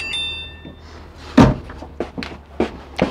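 A storage cabinet door in the bathroom of a 2015 Coachmen Leprechaun RV shuts with one loud close thud, followed by a few quieter knocks and bumps nearby.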